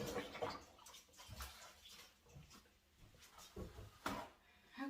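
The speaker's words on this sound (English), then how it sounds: "Let me rinse my hands real quick." Hands being rinsed under running water at a kitchen sink while making a strawberry cream cheese pie: uneven splashing and gushing in short surges, moderately close and fairly quiet.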